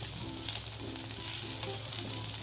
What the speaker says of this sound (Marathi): थोडंसं सात आठ लसणाच्या पाकळ्या त्याही परतून घेऊ आपण छान परतून घ्यायचा कांदा